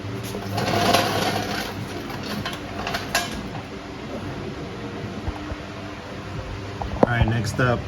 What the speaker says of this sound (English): I'm gonna try to take it off with my impact